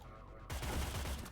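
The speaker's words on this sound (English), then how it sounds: "This guy's going to hear the gunfire" Sudden burst of rapid gunfire in the video game Cyber Knights: Flashpoint, starting after a brief quiet moment, continuing as a dense, rattling barrage for about a second.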